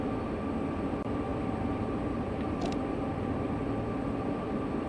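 A train runs in a railway simulator game, giving a steady, unbroken engine and wheel rumble with no pauses. A faint brief tick sounds partway through.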